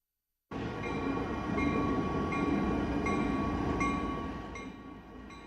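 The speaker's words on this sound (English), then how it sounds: "Freight trains carry things on rails." A freight train rolls along the rails with a steady heavy rumble and faint rhythmic clacks of wagons passing close by, no voices.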